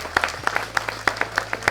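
An indoor event audience claps in sharp, scattered bursts, a small group of hands giving brief, distinct applause at close range.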